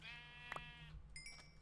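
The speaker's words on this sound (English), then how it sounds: "Oh, there's another. The same two sheep just spawned." Sheep in the Minecraft video game bleat twice in quick succession, short wavering calls that are fairly faint against a quiet background.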